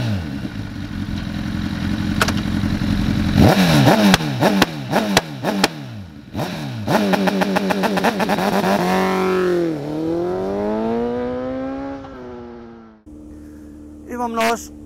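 A Honda CBR1000RR sport motorcycle engine revs hard in sharp bursts, then climbs and falls through gears, loud and close, with a brief pause before a final rev.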